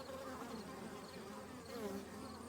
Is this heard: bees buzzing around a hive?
yes